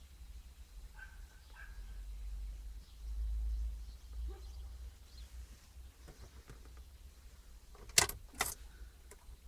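A key slides into the ignition of a 3.1 TD Jeep Grand Cherokee WJ and turns with faint metallic clicks and jangles, ending in two sharper clacks near the end of a quiet stretch.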